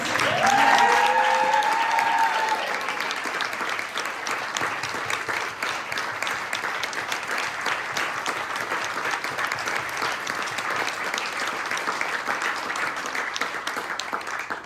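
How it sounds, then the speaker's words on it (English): A crowd claps steadily for storytellers standing up at a storytelling event, the dense applause holding at an even level throughout with a brief cheer near the start. "Can we have all the tellers stand up and just give them another round of applause?"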